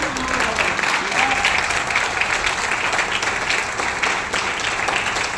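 An audience at a company gathering gives sustained, vigorous applause for the founder, dense clapping holding steady and fairly loud, with faint voices briefly surfacing.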